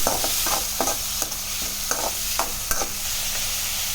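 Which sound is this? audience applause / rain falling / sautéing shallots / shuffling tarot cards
sautéing shallots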